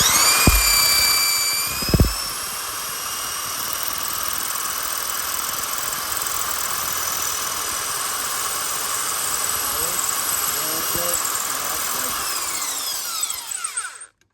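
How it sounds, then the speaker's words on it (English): A high, whining power drill bores into the crankshaft of a Hellcat engine, running continuously for about fourteen seconds, with a couple of brief knocks near the start and the pitch sliding down as it stops. "I can hold it here and drill if you want."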